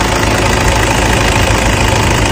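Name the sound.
car engine running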